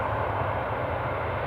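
A jet airliner taking off at Edinburgh Airport, a steady, loud, broadband engine roar that holds level throughout without gaps or voices.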